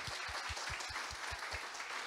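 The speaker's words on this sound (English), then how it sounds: "Can I give them a round of applause?" A conference audience claps in a dense, sustained round of applause, with some rhythmic low thumps underneath.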